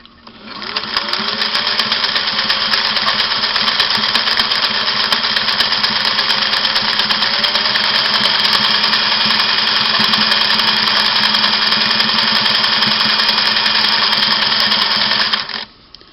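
A Singer 503A sewing machine runs steadily for about fifteen seconds while stitching a fine scallop pattern, its fast, even whirring and needle clatter loud and close, then stops abruptly.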